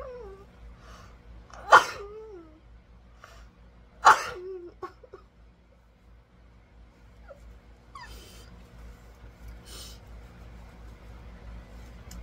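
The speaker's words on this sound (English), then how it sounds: "made me sneeze" Two sharp sneezes, a couple of seconds apart, brought on while eating spicy ramen, followed by quieter sniffs and small breathy sounds against a low background hum.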